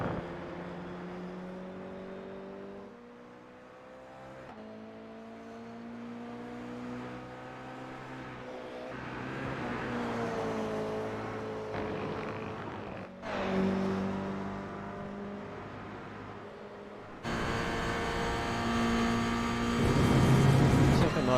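A GR86 race car engine in a racing sim, revving and shifting through gears on track, rising and falling pitches in repeated sweeps with a sharper, louder burst of revs near the end; no talk.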